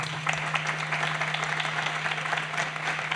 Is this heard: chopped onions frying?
no